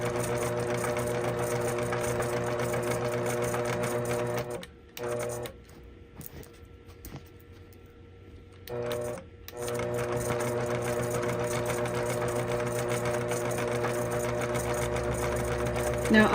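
A longarm quilting machine stitches with steady, loud mechanical whirring, cutting out for a few seconds mid-clip before resuming at full pace with talk over it.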